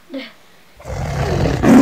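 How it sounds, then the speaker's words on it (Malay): A tiger roars loudly in a rough, rising growl that builds over about a second after a brief faint sound and a moment of silence, heard in a film scene. "Itu ada suara harimau itu ah."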